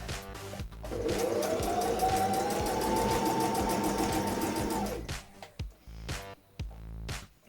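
A sewing machine back stitching the top of a circle skirt seam runs in one steady whirring burst of about four seconds, then stops, followed by a few short clicks and handling knocks.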